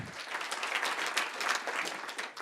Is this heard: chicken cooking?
no